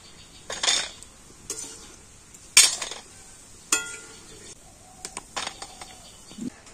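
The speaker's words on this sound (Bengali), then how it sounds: "আর এবার আমি মিষ্টিগুলোকে ভালো করে তেল ঝরিয়ে আর তুলে নেব।" Fried sweets being lifted out of hot oil and drained, with scattered sharp metallic clinks and taps of a utensil against the pan spaced a second or so apart over a faint background sizzle, close and without talk.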